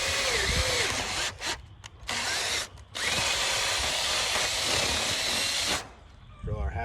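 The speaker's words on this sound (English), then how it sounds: "Drill our half-inch hole." A loud power drill whines steadily while boring a half-inch hole through a 2x4, stopping briefly twice and then resuming before winding down.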